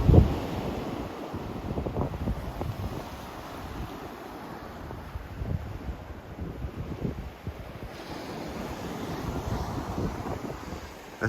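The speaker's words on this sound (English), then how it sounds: "It's not a bad little sea rolling there." Small sea rolling onto a beach while flounder fishing, a soft continuous wash of surf with occasional louder breaking swells, heavy wind buffeting the microphone throughout.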